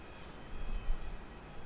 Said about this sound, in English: Got a Latam 787 to Chile, also taxiing out on the non-stop to Santiago.